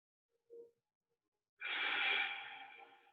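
A soft, short breath is followed by a longer, steady exhale, close and quiet, during a held yoga pose.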